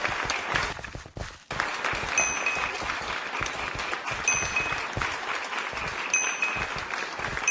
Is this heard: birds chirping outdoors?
no